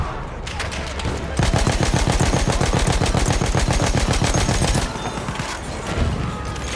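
Rapid automatic gunfire in Battlefield 1 rattles in a dense, steady stream of loud shots for several seconds, then drops back to quieter battlefield noise.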